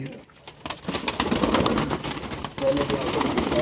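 Pigeons coo in a loft kept by a longtime pigeon fancier, soft repeated throaty calls close by with rustling and a voice talking over them.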